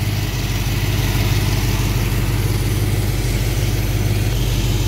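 A car engine runs steadily in a shop, raised to about 1500 RPM during a timing check, giving a constant loud drone with no clear rise or fall and no talk.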